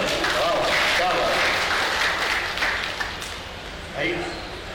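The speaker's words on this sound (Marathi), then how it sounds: "आपल्यासाठी जोरदार टाळ्या" Audience applause at a Maghi Ganeshotsav celebration in Dombivali East, a dense, continuous wash of clapping that swells and then eases, with crowd voices mixed in.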